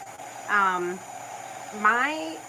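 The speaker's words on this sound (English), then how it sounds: "I'm using my WOW heat tool" A WOW embossing heat tool blows with a steady, even whoosh throughout, and two short harmonic vocal sounds rise over it.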